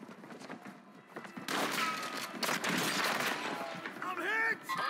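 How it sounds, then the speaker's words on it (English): Airstrike explosions and gunfire roar in Call of Duty Warzone 2.0. Heavy booming blasts and crackling shots stay loud and dense throughout, and a voice speaks over the din. "Hostile airstrike near your location."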